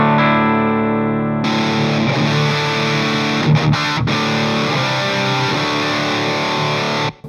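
Electric guitar played through a Riot Reloaded pedal into a clean amp: a soft held chord, then loud, full strummed chords ringing on with brief breaks, alone and close.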